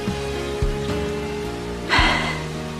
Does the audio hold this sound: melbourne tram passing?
no